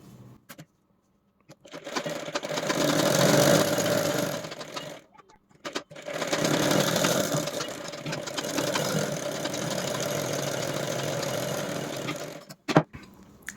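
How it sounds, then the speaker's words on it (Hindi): A sewing machine runs in two long stitching bursts, loud and close, with a short pause between them, while sewing a corner seam on a blouse during sleeve fitting. Handling clicks come before, between and after the runs. "उसके बाद हमको इसी के ऊपर कॉर्नर में एक सिलाई लगा लेना है।"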